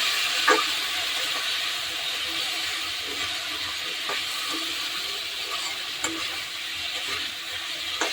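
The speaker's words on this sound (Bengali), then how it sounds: "অল্প একটু জল দিলাম জল দিয়ে মশলাটাকে একটু কষিয়ে নেব" Spice masala for a thin tilapia curry with potato, papaya and green banana sizzles steadily in the pan after a splash of water, with a broad hiss and occasional stirring scrapes and pops, close and continuous.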